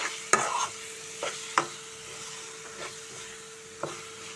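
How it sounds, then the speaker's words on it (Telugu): Chili powder and prawns frying together on a low flame for a prawn curry, giving a quiet, steady sizzle with several distinct scraping stir strokes spaced a second or so apart, close up and without any voices. "లో ఫ్లేమ్లో పచ్చివాసన పోయేంత వరకు కారము వేయించుకోవాలండి"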